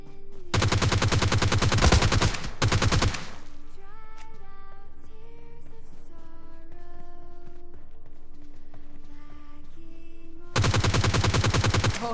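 Gunfire in the mobile-style shooter PUBG Lite, two loud bursts of rapid automatic fire close up at the start and another burst at the end, with quieter game sounds and tones in between.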